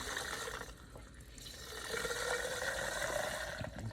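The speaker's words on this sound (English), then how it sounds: "you need to release the water from right here" Water releasing from an opened valve on a home water heater, a continuous rushing, hissing flow that grows slightly louder and fuller partway through, close and steady.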